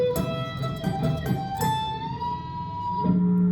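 Electric guitar playing a solo line from a song, a clear sustained note rising and holding at pitch as the string bends up a full step, ending on a lower held note, with no talking.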